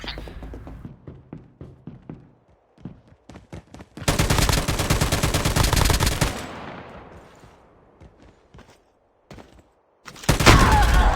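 Gunfire in Call of Duty Mobile: scattered single shots, then a long sustained automatic burst, quiet gaps, and a sudden loud blast near the end as a grenade goes off.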